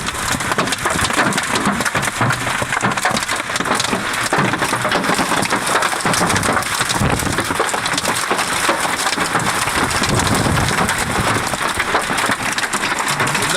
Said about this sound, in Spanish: observa con desesperación cómo el granizo daña su vehículo